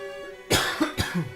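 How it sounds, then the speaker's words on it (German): A single person coughs twice at close range, two sharp bursts about half a second apart, with a little throat rasp after each. "wieso bin ich jetzt die ganze Zeit schon wieder am Husten?"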